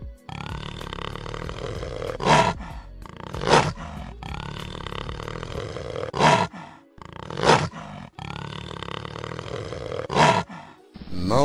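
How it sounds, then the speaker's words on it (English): A jaguar gives a series of five rasping, grunting roars, spaced about two seconds apart in a steady sawing rhythm, close and loud. "Jaguar can roar."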